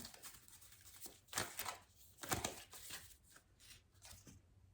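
Australian Animal Oracle cards being shuffled by hand, a soft papery riffle and patter coming in several brisk bursts over a quiet background, close and fairly faint, with no talking.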